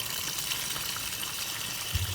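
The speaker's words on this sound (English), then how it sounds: "And open the tap. There we go. Hot water." Hot water gushing steadily from an opened tap into a homemade bush washing machine, a continuous close hissing rush with no pauses.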